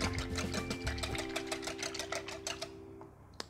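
A bread pudding mixture with cinnamon and brandy is whisked briskly in a bowl, giving fast, even, rhythmic ticking strokes close by with no talking.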